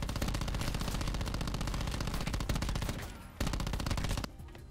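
Rapid automatic gunfire in the Black Ops 4 Prop Hunt video game, a loud sustained burst of shots that briefly pauses and resumes before cutting off.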